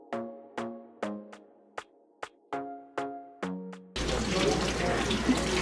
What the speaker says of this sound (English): Washing potatoes.